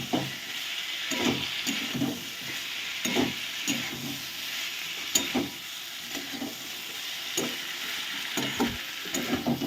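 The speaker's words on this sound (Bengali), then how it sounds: "আমি এই মশলার মধ্যে ভেজে রাখা আলু আর ফুলকপিটা দিয়ে দেবো। এবার ভালো করে মিশিয়ে নিতে হবে এবং একটু কষিয়েও নেব আমি।" Fried potato and cauliflower are stir-fried in a spice masala, sizzling steadily up close while a utensil scrapes and stirs in repeated rhythmic strokes, with no one talking.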